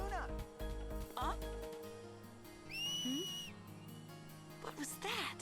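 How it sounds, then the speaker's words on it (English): A bright sustained whistle sounds once mid-clip in Final Fantasy X, clear and loud for under a second, set among game sound effects and low ambient tones. "It's called a whistle."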